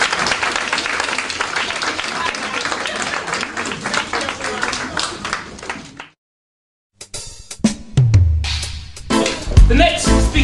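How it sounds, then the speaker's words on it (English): An audience at a London event applauds for about six seconds in a dense burst of clapping, then a brief silence before scattered handling noises, voices and movement follow. "So I would like to give you a round of applause for my own."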